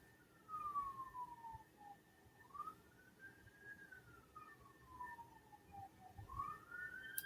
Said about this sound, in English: Are you hearing sirens?